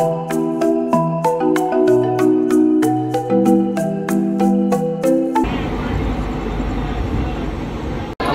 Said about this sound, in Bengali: আমাদের ট্রেন এবার এন্টার করলো নাগপুর জংশনে।